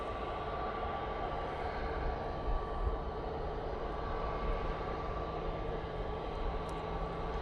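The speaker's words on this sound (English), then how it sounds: "that TUI Dreamliner is now making its way over" A TUI Dreamliner airliner passes over North Manchester near Manchester Airport, a steady, distant jet rumble with a faint hum that holds evenly throughout, with no talking.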